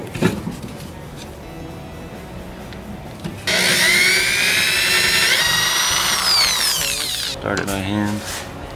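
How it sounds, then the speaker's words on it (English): A drywall screw being driven into a wall with a power tool: a loud, sustained whirring, grinding drive that runs for several seconds after a quieter start, then stops with a few short ratcheting bursts, close by. "So you screw this into the wall, and then the screw goes in"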